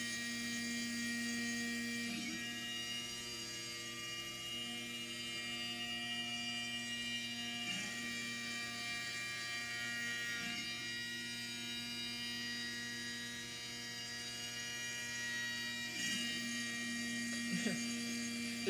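A CNC mill cuts a wood and delrin part for a 4-button switcher, giving a steady, even machine whine with a constant hum underneath. Soft, brief clicks and shifts break in every few seconds, and the tone barely changes over the run.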